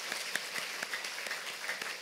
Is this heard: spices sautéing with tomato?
no